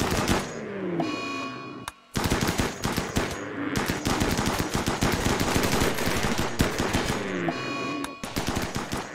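Rapid minigun fire in the colony-building video game RimWorld, long continuous bursts of dense automatic shots with a brief pause near the start and a short break near the end, loud and close.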